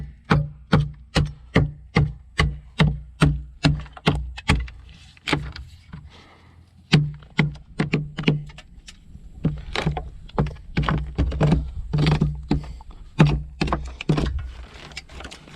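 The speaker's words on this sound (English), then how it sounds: "I can then just take my hammer and just start knocking these pieces out" Sharp, regular hammer knocks strike wood pieces out while building a garden shed, a steady rhythm of loud taps that pauses briefly and then resumes more irregularly.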